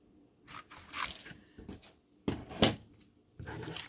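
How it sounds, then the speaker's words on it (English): Scissors cutting a piece of paper smaller for a Halloween tea and treat holder card, a few short snipping bursts close up with pauses between, no talk. "I'm just going to quick cut this a little bit smaller."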